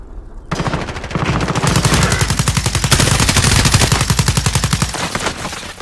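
Sustained rapid automatic gunfire in a battle royale shooter, a loud, close, steady burst of evenly spaced shots running for several seconds with no talk over it.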